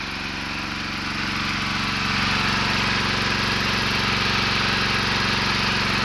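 A self-priming engine-driven water pump running on a water tank truck, a loud, steady mechanical drone with a fast, even pulsing that builds slightly in strength, close by with no voices.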